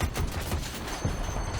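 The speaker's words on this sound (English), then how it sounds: "They fire two 35mm shells right next to each other" Rapid bursts of dual 35mm cannon fire from a Wildcat anti-air vehicle in Battlefield 2042, heavy thumping shots in quick succession over a dense rumbling background.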